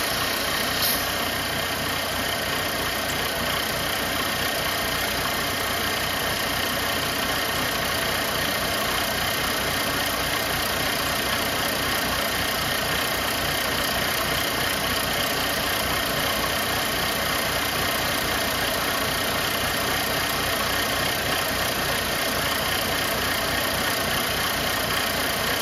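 A Mercedes-Benz C250 engine with an oil-leaking line runs steadily, a constant close-up hum and mechanical clatter that carries on unbroken throughout with no talking.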